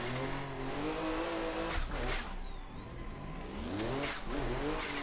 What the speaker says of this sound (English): That big turbo spooling. That flutter going.